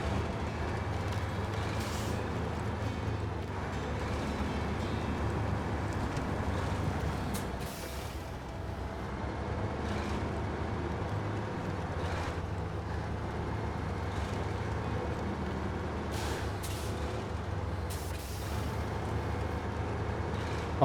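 An ANK MK38 truck in the SnowRunner game rumbles steadily on a road with a continuous low engine drone, punctuated by several brief hissing bursts like air brakes. No one speaks.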